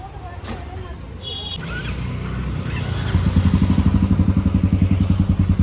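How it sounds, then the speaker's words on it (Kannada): Royal Enfield Bullet motorcycle riding along a road, its steady low engine thump growing louder and more rhythmic partway through, with brief clatter and traffic noise and some talk early on. "ನನ್ನ ತಂಗಿ ಈಗ ಗಾಡಿ ಬುಲೆಟ್ ಓಡಿಸ್ತಾಳೆ"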